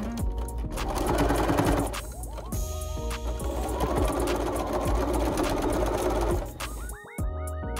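A sewing machine runs in a fast, steady whir while edge stitching the seam of a reversible fabric bucket hat, pausing briefly and then starting again, close and clear, with no talking.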